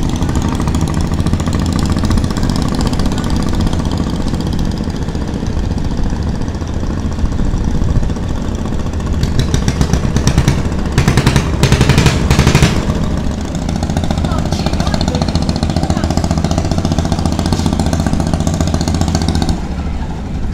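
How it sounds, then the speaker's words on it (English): A river ferry boat's engine on the Yangon River drones steadily and loudly throughout, with a brief rattling clatter in the middle. "people are using this boat to cross the river"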